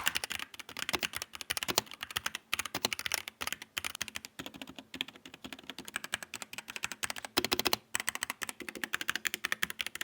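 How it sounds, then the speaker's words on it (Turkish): Rapid, close-up clacking of a Logitech mechanical keyboard continues throughout, fast and uneven like brisk typing, with occasional sharper mouse clicks mixed in. "Şimdi gelin bir hem klavyenin hem de mouse'umuzun sesine bakalım."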